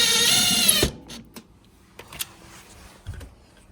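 A power driver whirs steadily for a moment, then stops, followed by scattered clicks and handling knocks as screws go back into a Miele dishwasher bracket.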